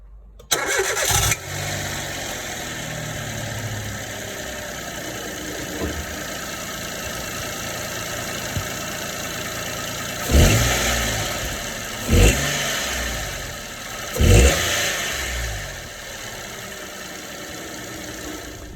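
A cold CityBug car engine cranks and catches near the start, then runs steadily close by, with three brief louder revs or surges later on and no talking.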